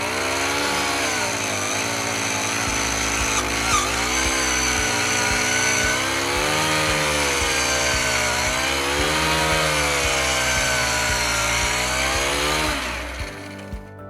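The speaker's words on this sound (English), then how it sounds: "This is our one-man post-hole boring kit. It'll drill from a 2-inch auger to an 8-inch auger." A Honda-powered one-man post-hole boring kit, taking 2-inch to 8-inch augers, runs steadily and loudly, its small engine rising and falling in pitch as it bores into the ground, then cuts out near the end.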